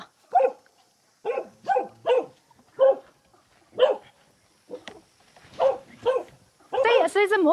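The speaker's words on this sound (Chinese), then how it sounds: "這只狗會咬人不？" A dog at a remote mountain home barks sharply and repeatedly at close range in uneven bursts, with short gaps between them and some whining yips near the end, while voices are heard nearby.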